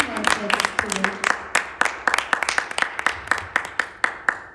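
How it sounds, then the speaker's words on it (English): Audience applause after an Indian classical concert with mridangam, vocal and violin, a brisk patter of hand claps at close range with a voice briefly audible at the start. "A big round of applause for Lalit for taking two concerts today."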